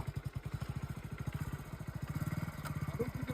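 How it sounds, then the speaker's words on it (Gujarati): A motorcycle engine, just restarted after refuelling, runs close by with a fast, even putter of low thumping pulses throughout. "તો બાઇકમાં પેટ્રોલ થઈ ગયું ને એટલી વારમાં ચાલુ થઈ ગયું"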